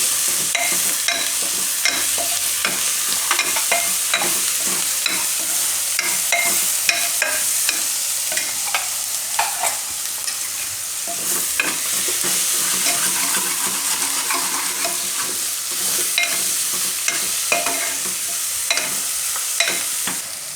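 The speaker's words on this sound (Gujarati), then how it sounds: "મેથીને મિક્સ કરી લઈએ" Fenugreek leaves are stirred into sizzling vegetables in a pan with frequent scraping and clattering strokes over a continuous fry, close and fairly loud.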